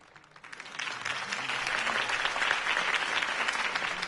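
A crowd applauds after a campaign speech in the video game Batman The Telltale Series, steady dense clapping that swells in and holds at a distance.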